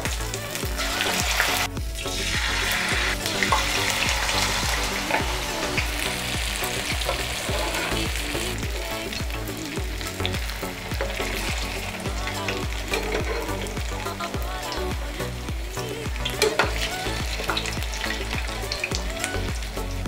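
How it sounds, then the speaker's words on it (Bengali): Batter-coated jute leaf fritters fry in hot oil over a low flame, a dense, continuous crackling sizzle that stays close and steady throughout, with no one talking. "আমরা সুন্দরভাবে এটাকে এবার ফ্রাই করে নেব।"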